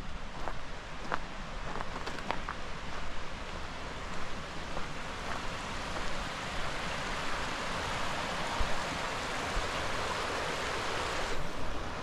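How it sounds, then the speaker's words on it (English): A creek runs beside a hiking trail on a near-freezing day, a steady broadband rush of flowing water that stays constant throughout with no voices. "But you're right here beside the creek."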